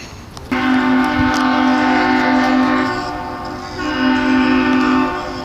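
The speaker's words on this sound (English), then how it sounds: "that's boat honking, I guess" A loud, deep boat horn blares steadily for several seconds, briefly dips, then sounds again, a long sustained tone with no voices.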